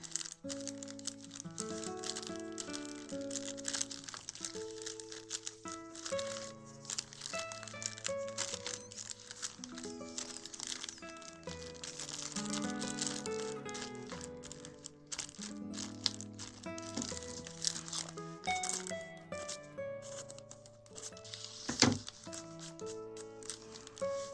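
Coffee-stained paper being folded by hand into a handmade envelope, with soft crinkling, creasing and rustling that comes in close, quiet bursts throughout.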